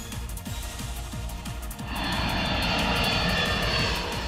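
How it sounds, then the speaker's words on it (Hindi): A low airplane engine roars loudly overhead as the aircraft descends shortly before crashing near Ahmedabad, a steady rumbling drone that swells into a broad, noisy whoosh partway through, with no talk. "वीडियो में देखिए कैसे प्लेन धीरे धीरे नीचे आता है"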